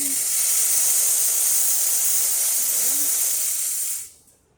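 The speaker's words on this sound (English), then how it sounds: "So first I'll just show you some steam." The steam wand of a VBM espresso machine blasts a loud, steady hiss of steam that runs for about four seconds, then quickly dies away to quiet.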